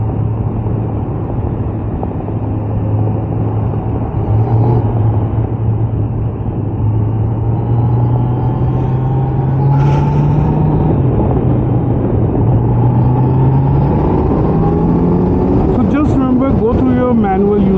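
Yamaha R15 motorcycle engine running steadily and loud, its low drone slowly rising in pitch near the end as it revs, with a voice heard faintly over it.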